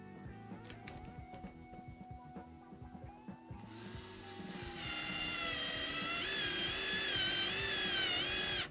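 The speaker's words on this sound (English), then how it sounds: "I'm using a tap that's made for a tapping kit." Hand tap slowly cutting threads into a part for a Voron 2.4r2 3D printer, with a steady grinding, ratcheting metal-on-metal rasp that starts intermittent and grows louder and continuous, close up with no talking.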